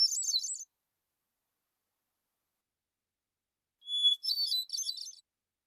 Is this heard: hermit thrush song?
yes